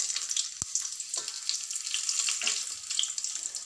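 Cinnamon, cardamom, cloves and fennel frying in hot oil for mint biryani: a bright, continuous crackling sizzle, close and moderately loud, broken by a few sharp pops and clicks.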